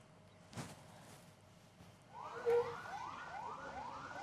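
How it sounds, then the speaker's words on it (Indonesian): A wailing ambulance siren near SMP Negeri 3 Kota Banjar rises in from a distance halfway through, sweeping up repeatedly in a steady cycle over faint background noise. "suara sirine ambulans terus terdengar dari SMP Negeri 3 Kota Banjar"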